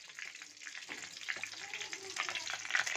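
Spices such as cinnamon and cloves fry in peanut oil in a clay pot, a soft, steady sizzle and crackle, faint and close, with brief speech in the background.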